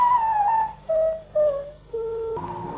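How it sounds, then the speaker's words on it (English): Whistled effect for a cartoon mouse vanishing into its burrow: a short sequence of four pure, sliding tones stepping downward, clean and alone with no talking. "That's the sound of the mouse disappearing back into its burrow."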